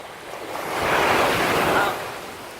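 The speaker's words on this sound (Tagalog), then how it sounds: "Lumalakas ng alon. High tide." Ocean waves at Barcelona beach at night during high tide, one surge swelling and breaking close by with a broad wash of surf, then receding, heard alone without speech.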